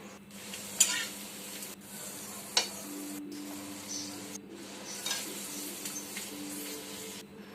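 Potato and sago kurdai chivda frying in oil, a soft sizzle under repeated stirring and scraping, with a few light clinks of a utensil against the pan.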